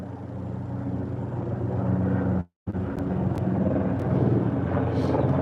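A helicopter flies overhead outdoors, a loud continuous broadband roar with a steady throbbing that swells slightly toward the end, briefly cut out for a moment midway.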